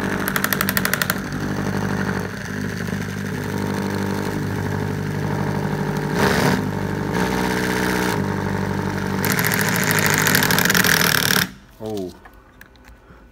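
Combined alternator and brushless motor running loud and close with a steady buzzing drone and a pulsing, piston-engine-like rhythm, briefly dipping midway before cutting off abruptly near the end, with a voice speaking over it.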